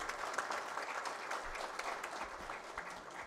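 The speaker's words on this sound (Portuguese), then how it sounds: "Recebem mais uma vez os aplausos de todos vocês." An audience at the opening of a national congress of state advocacy claps steadily, a dense, even round of applause sustained throughout with no speech over it.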